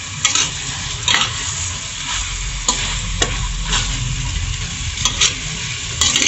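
Chicken pieces for chicken curry sizzle loudly in hot oil in the pan, with steady frying hiss and periodic scraping, clattering strokes of a spatula as the meat is stirred, no voices.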